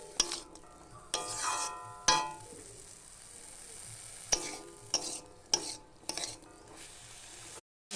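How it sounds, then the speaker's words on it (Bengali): Potatoes fry in a pan while being stirred, with sharp scraping strokes and clatters over a soft, steady sizzle, close and moderately loud with brief pauses. "এবারে আলু দিয়ে দিয়েছি, এবারে এটা কষতে থাকবো, আলুটা ভাজতে থাকবো।"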